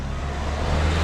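A car rolls through a narrow Italian street, its steady low engine rumble holding close and growing slightly louder across the short moment, with no voices over it.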